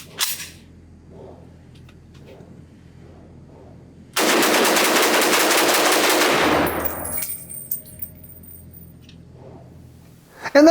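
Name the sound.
rapid gunfire from Russian SKS carbine, 1954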